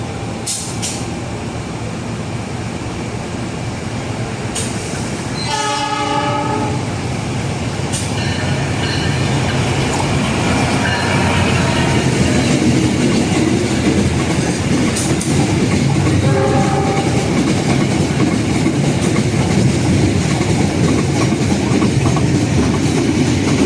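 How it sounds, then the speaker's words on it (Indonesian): A Pertamina tanker freight train rumbles steadily past at close range through Purwokerto station, with rhythmic clickety-clack of wheels over rail joints and a short announcement-like chime near the start. "akan segera melintas langsung kereta api barang tanker Pertamina"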